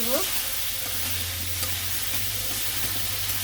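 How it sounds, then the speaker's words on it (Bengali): Fish fries in a pan of oil with chili and turmeric powder while being stirred, giving a steady close sizzle with a few scraping stirs and no talk. "মরিচের গুঁড়ে এবং দিব একটু হলুদের গুঁড়ে এখন নাড়াচাড়া করে নেয়"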